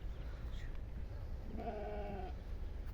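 One sheep gives a single wavering bleat near the middle of the clip, close and clear over a faint low background murmur, with a fainter brief call shortly before it.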